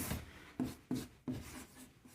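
Pen strokes on paper while numbers are written down, a quiet series of four or five short scratchy bursts spaced about a third of a second apart, close and soft with no talk.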